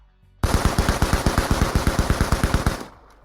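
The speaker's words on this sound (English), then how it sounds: "The night was illuminated by the muzzle flashes of automatic weapons as the two groups exchanged fire." Sustained burst of automatic weapons fire as a sound effect in a crime thriller audio drama, about twenty rapid evenly spaced shots over two and a half seconds, loud and close, then a brief tail.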